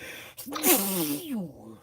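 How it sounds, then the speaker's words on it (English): One sharp, close sneeze bursts out after a quick intake of breath, then trails off in a short, voiced exhale. "That sneeze, Lord have mercy."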